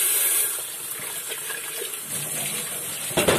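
Tap water runs steadily while a kettle is rinsed, a continuous close hiss of flowing and splashing water that swells briefly near the end.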